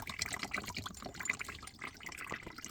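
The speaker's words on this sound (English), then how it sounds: "open it up on the cold side, just let any water trickle into the bucket" Water from the cold side of a heating filling loop trickles into a bucket, a faint, irregular patter and splash of small drips continuing throughout, with no talk.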